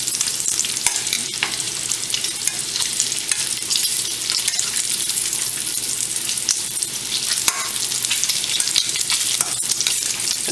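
Bacon sizzles in a pan over steady, dense crackling and spitting fat, with occasional sharper pops and scrapes throughout.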